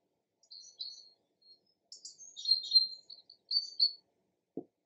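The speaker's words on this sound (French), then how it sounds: "Ce matin, Rouge-Gorge, Merle et Fauvette chantent à tue-tête." A robin, blackbird and warbler singing in short bright phrases and chirps, fairly clear against a quiet background, heard through an open window, ending with a brief low thump.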